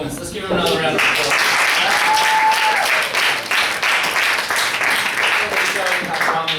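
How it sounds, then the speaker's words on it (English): A skit night audience gives dense applause after a drama performance, a steady roar of clapping that stays loud and close, with a brief whistle or call rising through it. "Let's give him another round of applause."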